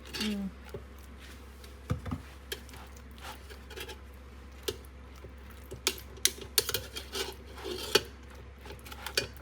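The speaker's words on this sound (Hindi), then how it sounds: "थोड़ा सा अचार का मसाला भी हम डाल देते हैं, मिक्स कर लेंगे इसको अच्छे से ना।" Paneer with mustard and pickle masala is stirred in a bowl with a spoon, giving irregular scraping taps and clinks that grow busier toward the end, with a steady low hum underneath.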